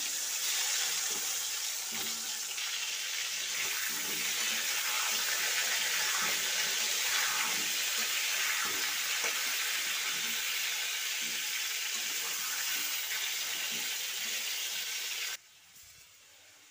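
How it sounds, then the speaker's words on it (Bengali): Whole small potatoes frying in hot white oil in a kadai on a gas flame, a steady broadband sizzle and crackle with occasional pops, close and continuous, cutting off abruptly near the end. "এবার তেলের মধ্যে আলু ছেড়ে দেবো।"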